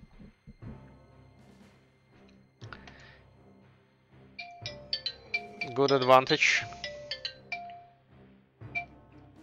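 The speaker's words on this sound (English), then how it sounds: "And my phone is calling, but I don't think I can answer right now" A phone ringtone chimes in repeated bright tonal bursts in the middle, mixed with keyboard clicks and someone talking during a strategy game stream.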